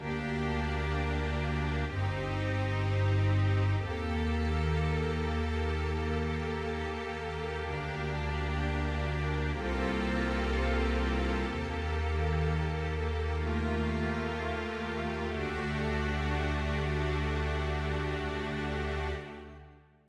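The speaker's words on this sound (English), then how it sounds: "So first is the strings over this sort of main anthem part." A string section from a free software instrument plays alone over the main anthem part of a metal song. Sustained, swelling chords shift every few seconds for about twenty seconds, then cut off.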